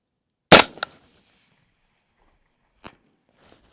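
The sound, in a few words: M110 rifle shot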